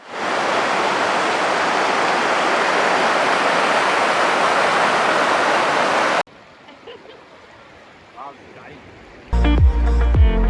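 Clear stream water rushing at Doodhpathri in Kashmir, a loud, dense, steady roar close by for about six seconds, then cutting to quieter ambience with faint sounds and a brief burst of music at the end.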